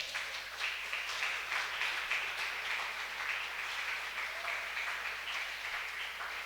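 A crowd applauds steadily, many hands clapping together in a sustained, even wash of sound that carries on throughout.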